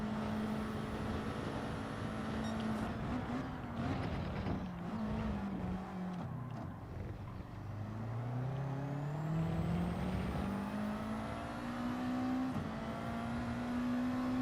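Race car in Gran Turismo 7 at the Austria circuit, engine droning steadily with a sharp upshift, then pitch falling as the car brakes hard behind another car before the revs climb again; continuous and close, no talk.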